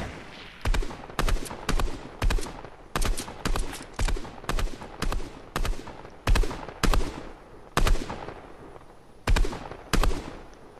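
Rapid bursts of video game gunfire crack out again and again, loud and close, in short clustered volleys with brief gaps between them and no voices over the shooting.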